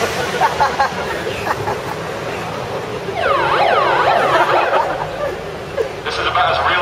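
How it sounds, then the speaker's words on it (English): A warbling siren resembling a police siren, rising and falling in sweeping wails midway through, heard amid a busy crowd with people talking and laughing nearby. "It's close to a police siren"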